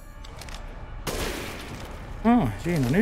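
A burst of gunfire in Resident Evil Village: a sharp crack followed by a rattling volley, then a voice talking near the end.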